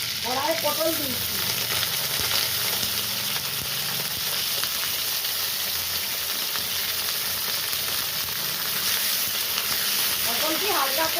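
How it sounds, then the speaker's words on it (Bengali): A constant, close hiss and sizzle of pointed gourd frying in mustard oil in a wok carries on throughout, with short bits of speech at the beginning and the end. "পটলটি হালকা করে ভেজে নেব।"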